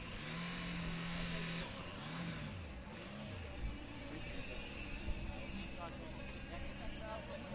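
A Formula Student race car from the Schweinfurt team makes its second timed run, the engine droning and shifting pitch as it accelerates and passes, while an announcer talks over it continuously.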